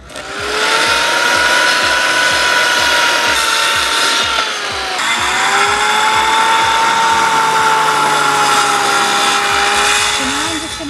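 A power saw cuts a 9-foot wooden clothesline post in half, its loud, steady whining drone shifting pitch as the blade bites, briefly dipping midway before resuming, with a rapid low rhythmic chatter underneath.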